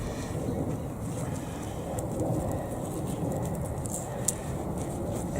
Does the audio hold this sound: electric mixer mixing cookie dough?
no